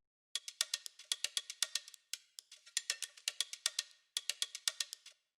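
White percussion loop from a dance music mix: rapid, bright, clicky metallic hits in a busy repeating rhythm with brief gaps between phrases, crisp and up front, no talking.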